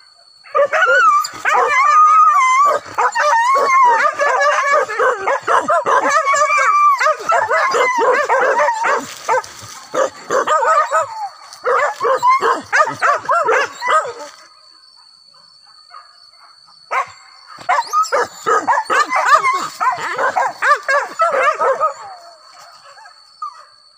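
Hunting dogs on a wild boar hunt at Batu Gandang, Sijunjung, yelping, barking and whimpering in excited bursts close by, with pauses between volleys and occasional voices among them.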